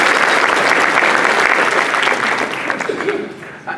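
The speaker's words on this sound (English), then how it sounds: "one more round of applause for Lindsay" A round of applause from a bar association event audience honoring Lindsay, dense and sustained clapping that fades toward the end.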